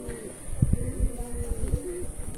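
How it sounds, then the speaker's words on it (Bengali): A white-eyed pigeon coos softly close by, giving a few low throaty rolling notes over faint ambient noise. "অনেক সুন্দর একটি কবুতর"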